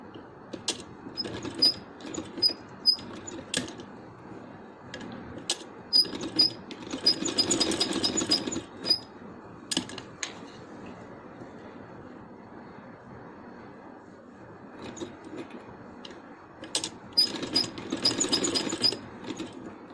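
A domestic sewing machine stitches a strip for a handmade baby boy's dress, running in short whirring bursts with pauses between, one longer steady run in the middle, close and fairly quiet.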